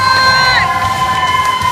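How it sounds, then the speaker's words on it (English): A crowd cheers and shouts encouragement for a contestant racing to grab flags and slide down a pole at Fear Factor Live, Universal Studios Florida. The loud, steady roar of voices fills the whole moment. "Guys, cheer him on."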